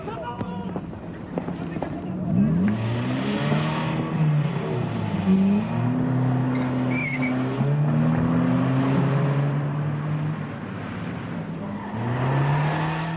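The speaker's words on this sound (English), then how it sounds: "The robbers drove back towards the ponds." A getaway car in a robbery reconstruction speeds off fast near some ponds, its engine revving and rising in pitch through gear changes, loud and close, then passing and fading before revving again, with talk around it.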